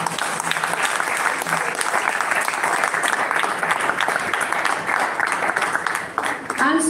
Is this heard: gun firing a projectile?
no